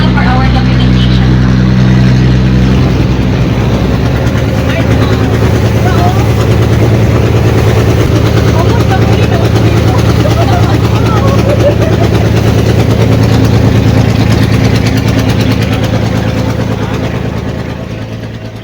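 Boat engine droning steadily and loud throughout on an island-hopping trip off Samal Island, a constant low rumble with faint voices underneath, easing off slightly at the very end.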